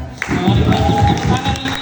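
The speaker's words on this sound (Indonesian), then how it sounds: "Mari kita beri tepuk tangan" Classroom applause for sixth-grade students after their solar system presentation at SD Hati Suci, a brief burst of steady clapping from a small group, fairly close and loud.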